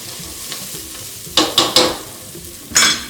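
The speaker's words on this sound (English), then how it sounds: "I am having to add in about a tablespoon more of this olive oil because I don't want the onions and garlic to burn." Onions and garlic cook in olive oil in a pan, a soft background sizzle broken by several sharp scraping stirs in quick bursts, close and fairly loud.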